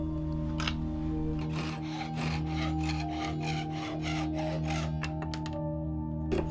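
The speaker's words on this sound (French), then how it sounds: "je vais juste prendre un morceau en bois qui est cylindrique que j'ai acheté en magasin et je vais le débiter" A cylindrical wooden dowel, store-bought and 12 mm in diameter, is hand-sawn to a 13 cm length: steady back-and-forth saw strokes rasp through the wood in a regular rhythm over a constant low hum, close and alone.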